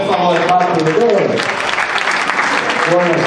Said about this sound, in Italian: un applauso a Tatiana, per favore!